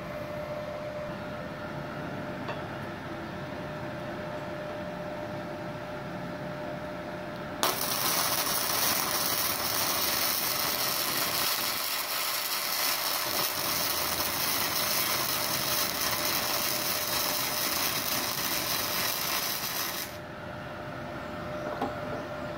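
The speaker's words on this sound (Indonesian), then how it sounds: "Oke, kita akan coba las." Gasless MIG welding on 1.5 mm steel plate, run without CO2 shielding gas: a loud, steady crackling sizzle that starts abruptly partway in, holds for about twelve seconds, then cuts off, with no talking.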